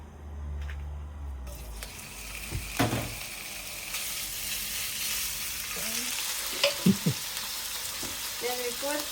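Beef frying in avocado oil in a pan, a steady close sizzle with occasional stirring scrapes and clinks, the hiss rising as the meat hits the hot oil.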